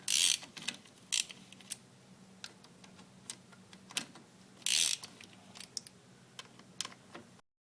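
A hand ratchet works the clutch spring bolts on a sport quad, giving quiet, irregular clicking bursts and short ticks spaced across several seconds, with a faint low hum underneath.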